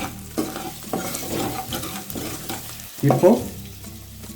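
Ivy gourd is stirred and fried in a pan over a low simmering flame, a soft sizzle with shuffling stirring strokes and a louder scrape near the end, close by, with a brief spoken word.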